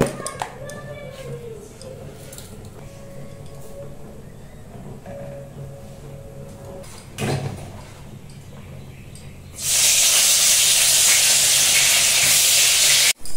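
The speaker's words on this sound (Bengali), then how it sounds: "বেগুন ভাজা বসিয়েছি" Eggplant slices seasoned with salt and turmeric start frying in a home kitchen pan, rising into a loud, steady sizzle in the last few seconds after quieter kitchen sounds and a brief clatter.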